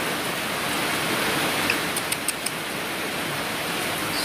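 Heavy rain pours down as steady, dense hiss, loud and unbroken, with a few faint ticks of drops hitting a surface.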